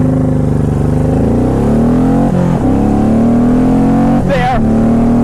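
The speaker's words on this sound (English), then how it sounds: "I jump on the on-ramp and I see how fast I can take me to get to 60" A Honda VTX 1800 motorcycle accelerates hard from a stop up a highway on-ramp, its loud, close engine note rising steadily through the gears, with brief dips at two shifts, heard from the rider's position.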